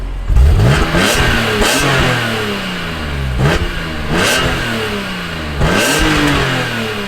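A stock-exhaust BMW E46 M3 engine revs repeatedly, rising and falling in several loud bursts with a raspy, buzzing airbox tone, heard from inside the cabin.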